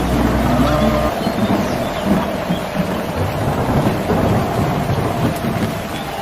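Steady, loud rain pours outdoors while low thunder rumbles underneath, a continuous heavy wash of noise from start to finish.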